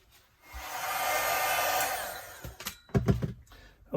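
A heat tool blows over artist trading cards covered in mummy cloth, giving a steady whooshing hum for about two seconds. It then cuts off and is followed by a few clattering handling knocks.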